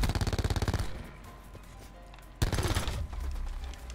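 An automated sentry gun killstreak in Black Ops 4 fires a rapid rhythmic burst of evenly spaced shots for about a second, then a second sustained volley of dense gunfire follows, loud and near.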